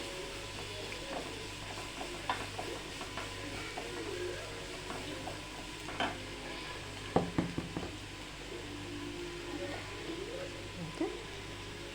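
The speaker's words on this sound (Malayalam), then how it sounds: "അത് നല്ലവണ്ണം ഒന്ന് വഴറ്റും." A ground mix of garam masala and fennel with cinnamon being sautéed in a pan, a soft low sizzle under repeated scraping and stirring strokes, with a few sharper clatters of the spoon near the middle.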